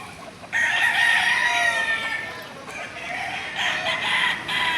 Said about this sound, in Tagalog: Are mga manok.